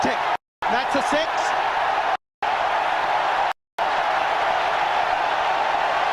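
A cricket stadium crowd in India roars steadily after a Pakistan batsman hits a six, a dense, far-off wash of cheering cut by three brief gaps of silence.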